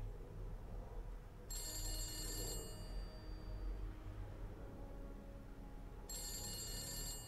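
Telephone ringing inside The Beast Inside video game: two bursts of bright electronic bell rings separated by a few seconds of quiet, heard over a steady low game ambience.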